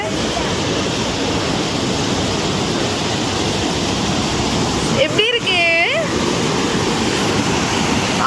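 Water rushes below Thirumoorthy Dam, a loud continuous broadband roar of flowing water, steady throughout, with a brief tonal squeal near the end over the torrent.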